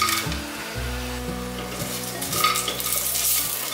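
Ginger slices, star anise, white pepper and bay leaves stir-fried in a hot pan, a steady close sizzle with scraping stirs and light clinks of utensil against the pan, no voices.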